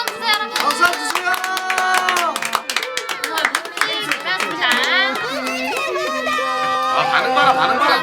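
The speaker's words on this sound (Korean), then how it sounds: "박수 한번 주세요 여러분. 박수 주세요." Concert audience clapping at a rhythmic, sharp pace amid lively crowd chatter and voices, with music and singing-like tones running underneath and people talking throughout.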